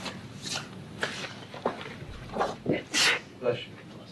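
A single sneeze bursts out during a board meeting, sharp and fairly close, amid ongoing conversational talk in the room.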